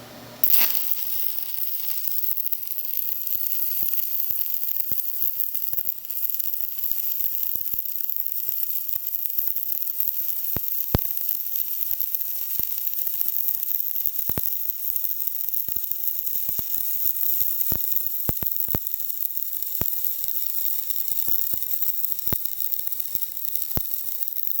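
Stick welding with a 3/32-inch 6013 rod at 85 amps, a steady close crackling sizzle of the arc running continuously for the whole stretch with scattered sharp pops, no talking.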